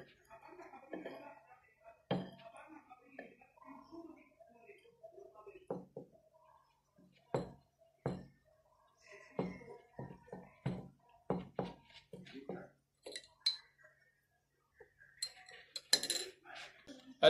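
A utensil stirring a thickening slime mixture in a bowl, with irregular clinks and scrapes against the container spread over many seconds, some sharper knocks, and quiet speech between them.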